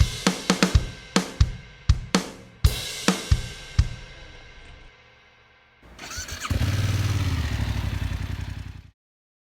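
A Voge 500R roadster motorcycle fires up in a string of sharp cranking bursts and clatters, falls quiet briefly, then settles into a loud, steady, close engine run that cuts off abruptly.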